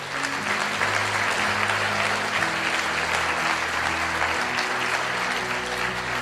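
Sustained audience applause fills a large hall at a motivational speaking event, dense steady clapping throughout with faint tonal hum underneath and no voices over it.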